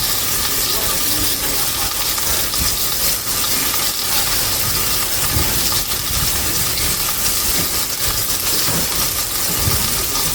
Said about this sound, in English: Now it's sizzling real well.